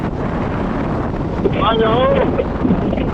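Strong side wind blustering across a coastal road near the sea, heavy rumbling wind buffeting the microphone throughout, with a faint whistling tone rising briefly in the middle.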